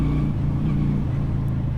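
Exhaust of a 2024 Honda Shadow Phantom V-twin motorcycle rumbles loud and close with a deep, steady throb, holding a fairly even rev throughout.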